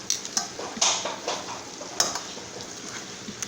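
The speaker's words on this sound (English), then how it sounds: "I'm going to let that kind of simmer for a minute until the vegetables get soft." Vegetables simmering in a skillet alongside chicken, a soft steady bubbling hiss broken by several light scrapes and clinks of a utensil stirring the pan, close and moderately loud, with no talking.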